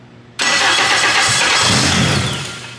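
A Honda K-series engine swapped into a Nissan S14 fires up for the first time: a sudden loud catch from the starter, then a rough, busy idle that settles and fades slightly toward the end.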